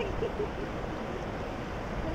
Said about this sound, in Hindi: आप इस झरनों की आवाज़ सुन सकते हो